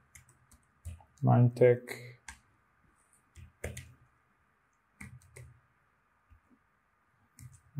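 Computer keyboard keys click in short, sparse bursts while working in Adobe Photoshop, quiet taps between stretches of someone speaking.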